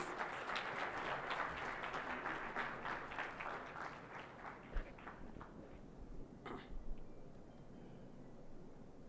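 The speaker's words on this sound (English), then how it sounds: "A huge round of applause, please." An audience at a maritime industry conference in Maharashtra, India applauds a keynote speaker with sustained clapping from a large crowd that gradually thins and fades, heard moderately far off in a hall.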